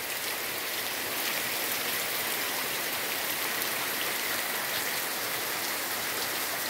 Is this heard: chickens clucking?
no